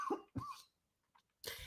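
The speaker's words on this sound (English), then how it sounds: "I'm going to mute myself and cough." A person coughs three times in quick, dry bursts close to the microphone, with short silences between them.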